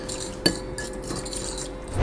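A spoon or spatula stirring chicken alfredo sauce with butter and parsley in a pan, giving a sharp close clink near the start and another scrape and knock at the end over faint, quiet kitchen noise.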